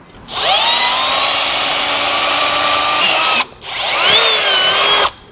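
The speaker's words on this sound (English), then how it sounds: "Now we can step up to that larger bit and get our hole drilled." A power drill fitted with a larger bit cuts a hole in a panel of a 2020 Hyundai in two loud, sustained whining bursts separated by a short pause.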